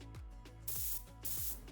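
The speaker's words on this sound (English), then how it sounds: "Now I'm ready to attach my gun to my air hose and start spraying." An air spray gun hooked to an air hose sprays paint onto furniture in short hissing bursts, two longer sprays separated by brief pauses and faint clicks, close and fairly quiet, no talking.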